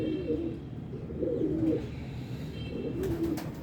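Pigeons coo softly in low, rolling calls repeated several times, with faint background noise and no talking.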